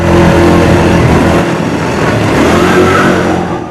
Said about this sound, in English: using this little go-kart thing where it goes very fast, like 100 miles an hour